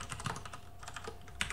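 Quick, close clicking of a computer keyboard while VB.NET code is typed, a brief run of soft keystrokes with no talk over it.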